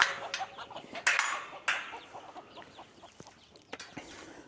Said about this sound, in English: One of the chickens chased the chicken, and that rooster decided to jump over the fence and take off running.